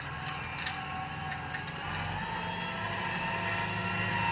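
A steady diesel engine drones and rumbles continuously as a Ford tractor hauls a heavy eight-disc plow, with faint mechanical rattling mixed into the constant roar.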